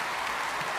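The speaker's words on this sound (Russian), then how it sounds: "аплодисменты!" Audience applause after a performance, a brief, dense, steady wash of clapping from a large crowd with no voices over it.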